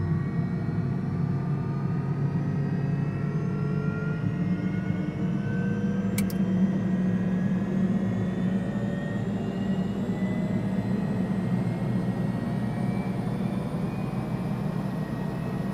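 Turbine engine spooling up on the right side of a Beechcraft Turbine Duke in Microsoft Flight Simulator 2020, a steady loud whine and roar with rising tonal whistles, continuous throughout with no talk.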